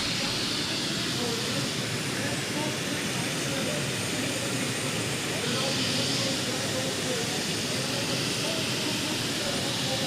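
The Whispering Giant, a turbine-powered pulling tractor, gives off a continuous, loud, even roar with a hissing turbine whine at a tractor pulling event, holding steady throughout.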